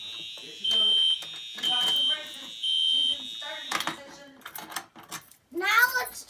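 A building fire alarm sounds during a system test: three loud, even electronic tone bursts with short gaps between them, followed by people talking nearby and some light clatter.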